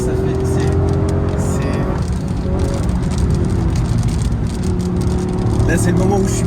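A Toyota GR Yaris engine revs high and steady toward 7000 rpm, a sustained loud drone with rising harmonic tones, close and continuous throughout.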